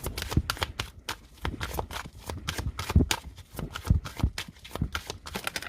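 Tarot cards are shuffled and drawn during a French-language card reading, a close, continuous run of crisp riffling flicks and soft slaps in an uneven rhythm.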